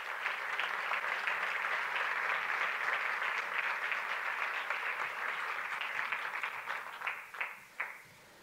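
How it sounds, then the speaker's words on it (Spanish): Sustained applause from an audience at a women's basketball league season presentation, welcoming a guest to the stage; dense steady clapping for several seconds that thins into a few scattered final claps. "Un fuerte aplauso para ella."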